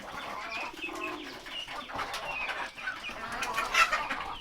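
Pigeons kept indoors in their house after catching cold from the rain coo and murmur softly, with a few clucking, fowl-like calls mixed in. They sound close and continuous over several seconds, with no talking.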